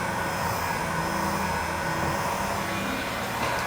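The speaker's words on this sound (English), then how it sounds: "Next up, you're going to take your heat gun or a hairdryer." A heat gun blowing to warm the badges on a Mercedes-Benz C63 S, a steady close-up whooshing roar that stays even throughout with no pauses.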